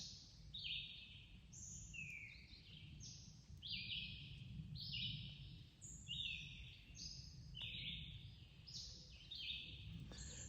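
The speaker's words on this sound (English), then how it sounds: "The early morning birds" Several birds sing and chirp in early morning in repeated bright phrases, some overlapping, over a quiet low outdoor background hum on a forest trail near Bear Mountain, New York.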